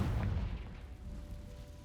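A Confringo blasting spell goes off in a Harry Potter video game as a heavy low boom, with a rumbling tail that fades over about two seconds.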